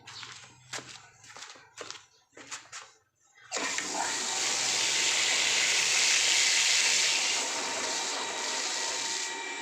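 Water gushes steadily and loudly from a tap supplied by an automatic water pump, a strong continuous rush that starts abruptly after a few soft clicks and knocks.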